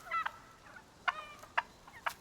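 Wild turkeys in Canada call in a few short, sharp gobbling yelps spaced about half a second apart before heading to roost, faint and somewhat distant.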